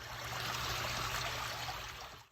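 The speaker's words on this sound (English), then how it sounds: "Do you not hear a waterfall in your car? Do you not hear the sloshing?" Water sloshing and trickling inside a car after it leaked into the back seat, a steady rushing flow like a small stream that fades out at the end.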